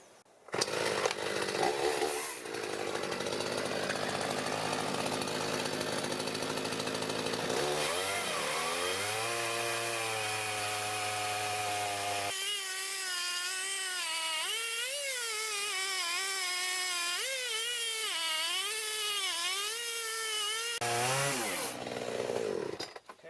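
A chainsaw rigged in a homemade Alaskan sawmill cuts lengthwise through a wooden board, the engine roaring loud and steady for over twenty seconds with rising and falling pitch as the cut bites and eases, dropping off at the end.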